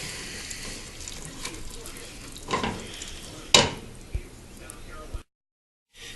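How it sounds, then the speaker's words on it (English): Saffron gets stirred into a clam risotto in a pan, with soft scraping strokes and a faint simmer, a couple of sharper knocks midway, close and quiet, before the sound cuts to silence. "We're just going to stir that around."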